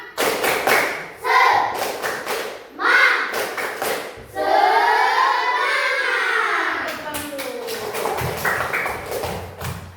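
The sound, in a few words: class doing a rhythmic spirit clap (tepuk semangat) again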